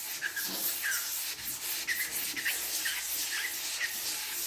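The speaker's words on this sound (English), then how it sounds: "Give it a rub, give it a wash." Wet rubbing of primer filler on a VW Beetle trailer panel in a circular motion, making a steady, close, rhythmic swishing and scuffing of abrasive strokes that repeat about every half second, with no talking.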